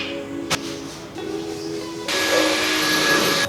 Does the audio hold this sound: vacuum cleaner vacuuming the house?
yes